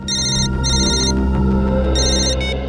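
An electronic telephone ringtone sounds loud and close in repeated bursts with short gaps, signalling an incoming call in a police crime drama, with no talking over it.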